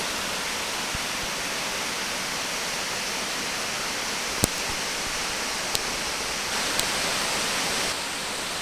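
Steady, broad rushing roar of Crabtree Falls in Nelson County, Virginia, constant and enveloping, with a couple of faint clicks along the way.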